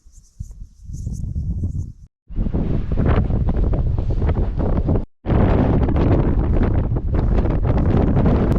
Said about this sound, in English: getting hella buffeted by the wind up here. It's pretty sick, but it's pretty windy.